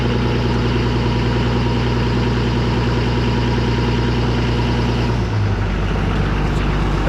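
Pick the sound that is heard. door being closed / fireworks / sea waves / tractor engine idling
tractor engine idling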